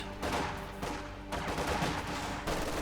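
Distant, continuous battlefield gunfire in Company of Heroes 2, a dense stream of overlapping rifle and machine-gun shots with no clear single reports, held at a low, steady level throughout.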